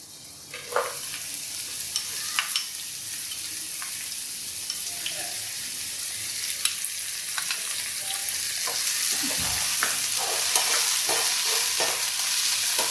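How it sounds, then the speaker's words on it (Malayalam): Lentils sizzle and fry in hot oil in a pan, a steady, close crackle with occasional stirring scrapes throughout. "ഇനി ബാക്കിയുള്ള പയറിനെ ആ എണ്ണയിലൊന്ന് ചൂടാക്കിയിട്ട് ഫ്രൈ ചെയ്ത് അതിലിടാം."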